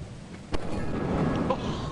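Thunder from a lightning strike on a stormy planet in a video game, a sudden sharp crack midway followed by a steady rumbling roar, loud and close, with no voices.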